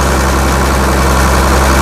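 Engine of a large water pump with a 16-inch pipe runs steadily nearby, giving a loud, continuous low rumble with no breaks.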